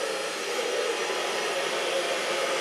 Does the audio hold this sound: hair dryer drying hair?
yes